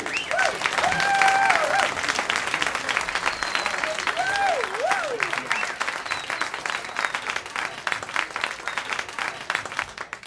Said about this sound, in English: That big round of applause,